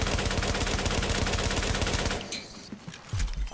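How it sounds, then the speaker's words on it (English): Rapid bursts of automatic gunfire from a shootout in the tactical shooter The Division, loud and dense for about two seconds, then stopping abruptly, leaving scattered softer impacts and game noise. "Guy shot me from up top."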